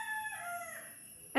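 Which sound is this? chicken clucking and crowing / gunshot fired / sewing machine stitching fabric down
chicken clucking and crowing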